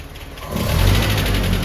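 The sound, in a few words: Land Rover Series 3 engine running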